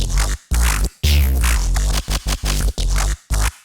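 Squelchy neuro bass patch from Xfer Serum, loud gritty stabs in a choppy rhythm with sharp gaps between bursts, heavy low end and snarling, shifting mids, with nothing else playing.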